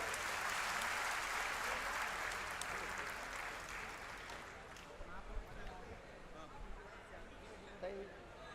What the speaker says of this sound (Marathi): त्यांचं स्वागत करा जोरदार टाळ्या अजून